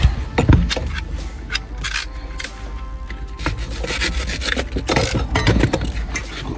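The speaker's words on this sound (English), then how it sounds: "It's getting nice straight and even cuts on our insulation." A Pipework Pro cutter slices through pipe insulation during boiler pipework tidying, giving a continuous close rasping, rubbing scrape with uneven strokes and no talking.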